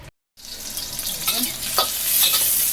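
Sinigang ingredients sautéing in a hot pan, sizzling that builds after a brief silent gap, with spatula stirring and scraping throughout, close and fairly loud, no talking.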